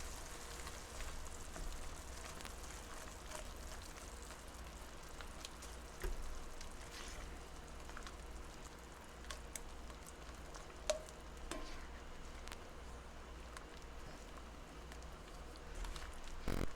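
Tomato cream chicken sauce stirred in a pan over low heat, a steady soft sizzle with faint scraping of the spoon running throughout, with no talk.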